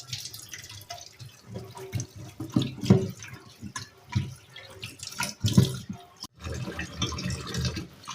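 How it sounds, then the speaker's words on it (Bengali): Catla fish washed with salt under a running tap: steady, fairly quiet flowing water with splashes and bursts of louder rinsing as the fish is handled. "এখানে আছে কাতলা মাছ, নুন দিয়ে ভালো করে ধুয়ে নিই।"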